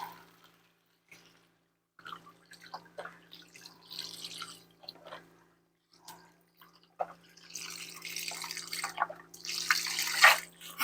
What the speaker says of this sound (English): we're going to add our beef broth